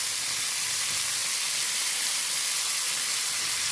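Ground spice paste of crushed green chili, shallots and garlic hitting a hot pan, giving a loud, steady, broad sizzle that holds evenly from start to finish with no talking.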